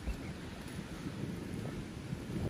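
Steady gusting wind roars across the microphone in a Kashmir village after rain, a low rumbling buffet with no voices, constant and close throughout.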